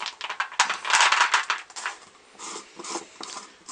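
Powdery, granular rustling and light clicks as a container of mixed rocket ejection charge powder is opened and handled, a busy run of small rattles over nearly four seconds, fairly close with no talk.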